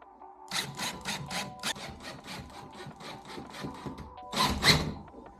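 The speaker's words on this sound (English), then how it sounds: "Now fasten the mounting bracket on the wall with the lag bolts." Lag bolts are driven to fasten a TV mounting bracket to a wall, a close rhythmic run of scraping, ratchet-like turns with a short pause before a final louder burst, with no talking.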